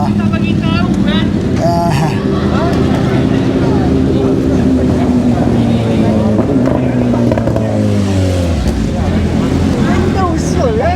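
A motorcycle engine revving at Sepang International Circuit at night, its loud pitch climbing and dropping as it passes close by, with people chatting over the steady roar.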